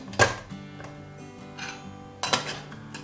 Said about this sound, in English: Now the the Snow Peak with this one, you can certainly drop in the canister.